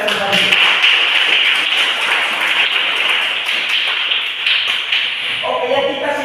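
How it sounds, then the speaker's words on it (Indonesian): Students in an elementary classroom clap together in a dense, steady patter of many hands, close and sustained for several seconds, with the taps fading slightly near the end as a voice begins. "Tepuk tangan buat kita semuanya."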